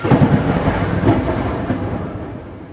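Thunder after a big lightning flash rolls as a loud, broad rumble that swells at once and slowly fades, with no voices over it.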